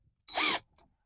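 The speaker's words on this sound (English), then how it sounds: "So I'm going to start it with a drill and finish up with a screwdriver." A drill gives one short, sharp whir, driving a screw into an automated chicken door during installation, then falls quiet apart from a faint rustle.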